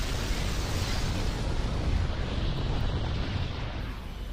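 Supernova explosion sound effect from a tokusatsu series: a dense, roaring rumble of noise that stays loud and steady throughout, like a sustained blast wave without any voices.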